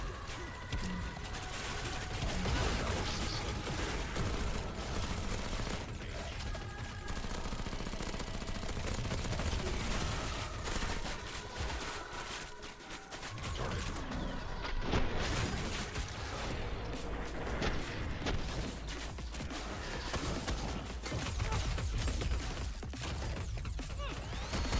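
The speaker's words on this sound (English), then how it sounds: "Get my grenade launcher out." A grenade launcher fires in a video game amid a dense, continuous wall of loud gunfire and explosions that runs unbroken throughout.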